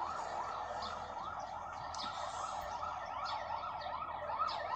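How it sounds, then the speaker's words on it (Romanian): An ambulance siren in GTA 5 wails continuously in a rising-and-falling yelp, heard at moderate distance over a low background hum. "mai trece o salvare"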